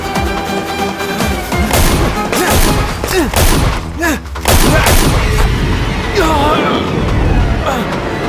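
Gunfire in a Tamil film action scene: loud booming shots and thuds amid a dense mix of music, crashes and shouting voices.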